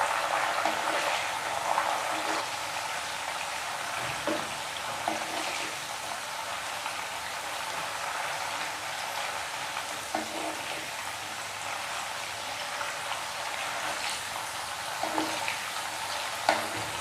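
Banana chips fry in hot oil, a steady bubbling sizzle with occasional crackles and pops that carries on evenly, close up and moderately loud with no voices.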